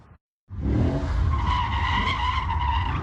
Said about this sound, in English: Cell phone video caught this driver doing donuts on the brand new 6th Street Viaduct in downtown LA